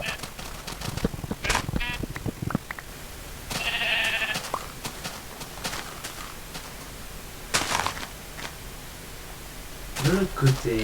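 Flock of sheep bleating in Minecraft beta 1.7.3, a few short scattered bleats at moderate volume among game clicks and footsteps while a voice talks over them.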